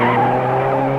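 Sports car tires squealing and skidding through a sharp curve under engine noise, a loud continuous screech lasting about a second, close and without talk.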